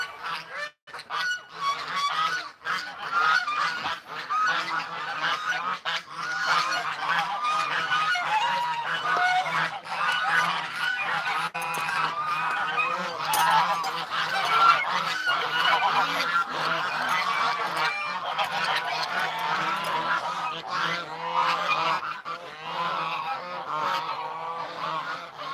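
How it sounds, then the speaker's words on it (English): A flock of geese gathered at a gate honks continuously and loudly at close range, many overlapping calls forming a dense, chattering chorus throughout. "Yeah, the geese are at the gate."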